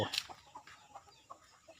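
Hens and rooster-type farm chickens give a scatter of short, fairly faint clucks one after another, with no talking over them.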